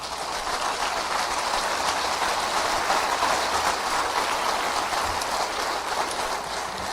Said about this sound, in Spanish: sí, denle el aplauso al Señor.